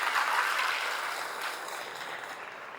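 Audience applause at a Tamil awards stage event, a steady wash of clapping from a large crowd that holds even and fairly loud for about three seconds, with no voices over it.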